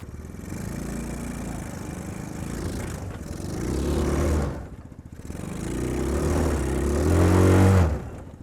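A mini jeep's small engine labors up a steep hill, droning steadily and rising in two strained, louder revving surges with a dip between them.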